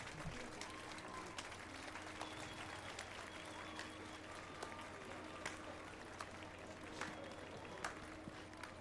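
Applause in The Witcher 3: Wild Hunt, at a public bathhouse after a song, a faint steady patter of clapping over low game ambience, with speech mixed in.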